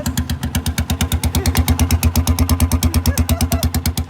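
A Honda CG 125 motorcycle engine with a damaged silencer runs loud and close, its rough, rapid pulsing exhaust beat steady and throbbing as the throttle is held open.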